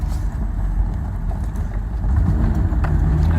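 A stock Nissan RB25DET engine with a blow-through MAF setup idles steadily, producing a continuous low, rumbling drone with a slight uneven flutter that stays close and fairly loud throughout.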